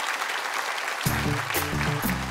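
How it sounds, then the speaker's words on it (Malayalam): Steady audience clapping at a Malayalam TV comedy stage show, followed by a low repeating musical tone that enters partway and pulses with bright accents. "കൈയടിച്ചോളൂ, കൈയടിക്കും"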